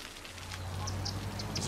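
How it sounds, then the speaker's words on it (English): Rain falling steadily in the Cities Skylines city-building game, a soft broadband patter with a low ambient hum beneath, moderately faint and continuous, with occasional brief brighter drips. "Raining?"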